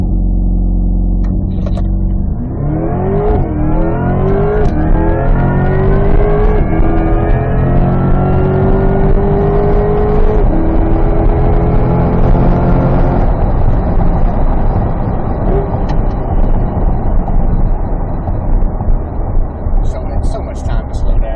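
A 2025 Corvette E-Ray launches from a standstill under launch control. After a low idle, its engine note climbs sharply to a loud, close roar that keeps rising through the pull, and people talk over it.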